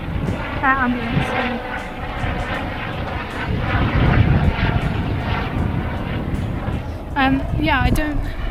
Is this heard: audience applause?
no